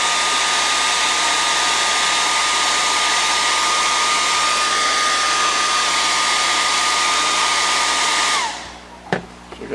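A hair dryer blows steadily and loudly to dry fast tack glue on foam puppet hands, its whine continuous for several seconds before it cuts off, followed by a few faint handling knocks.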